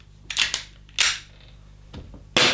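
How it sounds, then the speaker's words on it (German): Several sharp, snappy shots fire from a Kizuna Works KW-15K airsoft pistol with uneven gaps, each a short crisp crack standing out against a quiet background. "ich mache jetzt jedenfalls immer einen Schuss"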